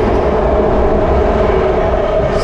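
BART train riding between San Francisco and SFO, a steady loud rumble of rail car and wheels on track filling the whole stretch, with no talk.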